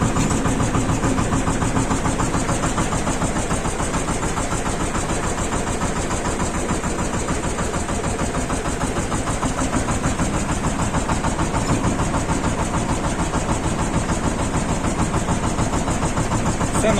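Shifeng 240 mini tractor engine running steadily, a loud close diesel chatter with a fast even knocking pulse throughout, no talking.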